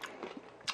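Someone eats sundae gukbap, a Korean blood sausage and rice soup, with soft close-up chewing and a couple of small wet bites, faint and brief with no talk.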